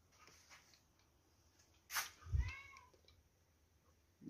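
Cat meowing in a video game, one clear meow around the middle of the stretch, set against a faint background hum, with a brief sharp click just before it.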